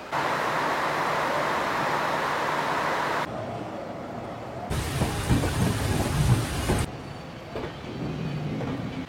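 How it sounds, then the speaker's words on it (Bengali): The Barbil Jan Shatabdi Express leaving Howrah station, heard from inside a passenger coach as a steady rumble of wheels on rails with clattering bursts and shifts in the roar as the train runs on. "আমাদের ট্রেন নির্ধারিত সময় থেকে প্রায় 15 মিনিট দেরিতে হাওড়া স্টেশন ছাড়লো"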